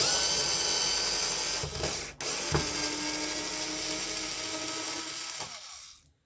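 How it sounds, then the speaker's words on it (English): A power drill backs out button head screws from the front differential of an Arrma Infraction RC car, a steady close whir running for several seconds with a brief stop partway, then cutting off near the end. "I'm just going to use my drill."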